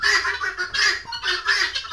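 Chickens on an egg-laying poultry farm give loud, repeated squawking calls in quick bursts, close by with no talking.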